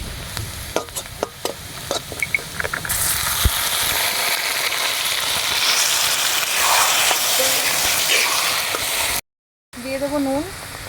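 Snake gourd paste added to fried onions in a pan, crackling into a loud, steady sizzle that swells and holds, with brief stirring clatter at the start and a short gap near the end.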